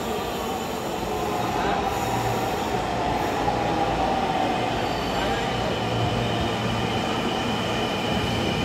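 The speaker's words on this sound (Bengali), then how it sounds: "আমাদের ট্রেন চলে আসছে, যেই ট্রেনে করে আমরা এখন মিরপুর 10-এ যাব।" A crowded metro train pulling into a station platform on its way toward Mirpur 10, a loud steady rumble with a drawn-out wheel squeal and faint voices in the background.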